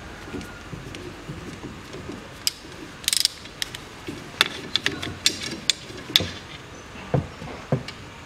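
A ratchet wrench with a 10 mm socket loosens the upper bolt on the lower steering shaft of a Land Rover Discovery 3, giving sparse, irregular metallic clicks and ticks at close range with quiet gaps between them.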